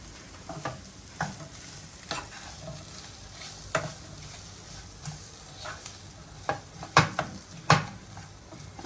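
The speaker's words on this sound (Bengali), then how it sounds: "দেখি এখন নাড়াচাড়া করি কি লাগবে না লাগবে" Potatoes with turmeric frying in a pan, a soft continuous sizzle broken by irregular scraping stirs and sharp knocks of a spatula on metal, louder toward the end, close up with no voices.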